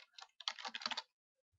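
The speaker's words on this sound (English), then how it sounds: "So hit tab and then type rate." Computer keyboard typed in a quick short burst of clicky keystrokes, close and fairly quiet, settling into silence after about a second.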